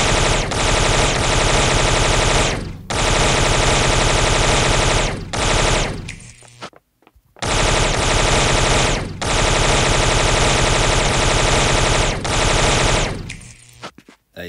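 Sustained bursts of rapid SMG gunfire from a cops and robbers video game, loud and continuous with short pauses between long volleys, alone with no talking.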